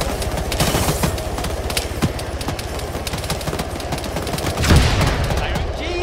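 Dense automatic gunfire and bursts rattle continuously through a firefight in the video game Arma 3, with a heavier rocket-like blast near the end standing out over the steady loud clatter.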